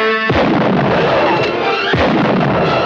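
Gunfire in a 1964 Western, three loud, sharp shots spaced about a second apart, each with a booming echoing tail, no talk.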